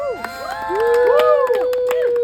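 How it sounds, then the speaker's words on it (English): Survivor game players whoop and cheer together at a backyard competition, rising vocal 'woo' calls overlapping loudly for about two seconds, with little or no clapping audible. "Round of applause."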